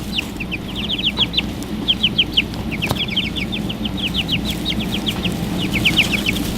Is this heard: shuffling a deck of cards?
no